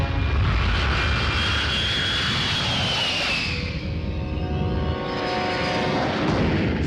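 Loud passenger airliner engine drones continuously inside a hijacked plane, a steady roar with a tone sweeping downward midway, no voices heard.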